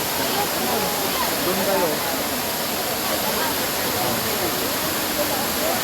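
Daranak Falls pours with a loud, steady, close roar of rushing water, while people speak briefly over the din.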